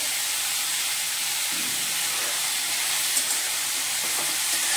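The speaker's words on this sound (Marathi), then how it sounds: "तेलामध्ये आपण 1 मिनिट परतून घेऊया" Chopped bottle gourd with a little turmeric frying in hot oil, a steady even sizzle and hiss throughout with occasional soft stirring, no voices.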